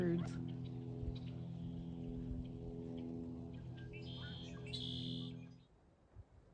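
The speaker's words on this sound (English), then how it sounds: "Birds." Birds chirp briefly outdoors near a bluegrass stage amphitheater at the Oso landslide memorial, a few high bursts of song rising over a steady low hum before things fall quiet.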